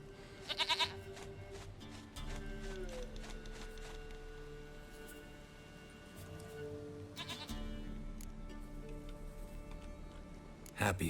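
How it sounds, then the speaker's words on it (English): A goat in The Witcher 3: Wild Hunt bleats in short quavering calls at the start and again at the end, with game ambience and a low musical drone filling the space between. "Goat of mine, dearest, sweetest goat."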